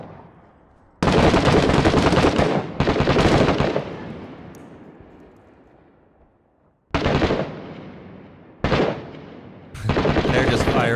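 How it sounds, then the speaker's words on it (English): Bursts of rapid automatic gunfire in the Six Days in Fallujah video game, loud sustained volleys that start and stop abruptly, with echoing decay between them and a voice briefly heard. "They're just firing at Spoonbill in that corner."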